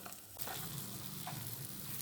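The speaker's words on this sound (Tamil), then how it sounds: "இந்த பின் பக்கமும் ஒரு நிமிஷம் அப்படியே ரோஸ்ட் ஆகட்டும்." Egg dry roast frying in a pan, a steady crackling sizzle that starts after a brief quieter moment and continues evenly, close and moderately loud.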